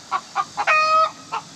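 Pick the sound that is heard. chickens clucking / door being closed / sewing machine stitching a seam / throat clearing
chickens clucking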